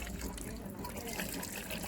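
Tap water pouring into a tub being filled for dyeing jeans black, a steady soft gushing stream with a voice in the background.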